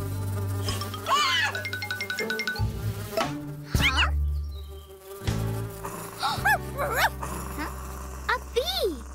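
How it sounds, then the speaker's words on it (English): A cartoon bee buzzes in quick, wavering bursts amid lively animated dialogue, with a small dog's yelps and whimpers mixed in among the speaking voices. "I think poor Pom Pom's been stung by a bee."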